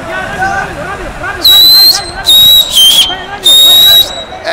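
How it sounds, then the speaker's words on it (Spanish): Referee's whistle ending a football match, several long shrill blasts in a row, loud and close over crowd noise and a commentator's voice. "Vamos a ir con el silbido mágico del final."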